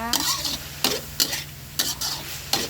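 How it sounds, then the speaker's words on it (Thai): Pork and hot dogs are stir-fried in a pan, a continuous close sizzle punctuated by four evenly spaced scraping strokes of the spatula against the metal. "เอาฮอทดอกลงไปผัดเลย ผัดไปเรื่อยๆนะคะ"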